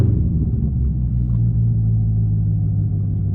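A Corvette Grand Sport fitted with an AWE exhaust rumbles with a deep, loud, steady low growl that holds close and continuous without clear rev peaks.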